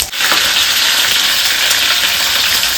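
Mustard seeds hit very hot oil, setting off a loud, dense, steady sizzle and crackle close by that carries on without pause.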